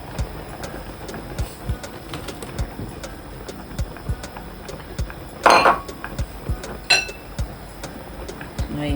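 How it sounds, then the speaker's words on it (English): Prawns go into a pot of okra on the stove with a brief clattering splash, surrounded by light repeated clinks and taps of utensils against the pot. "Now I'm going to add my prawn."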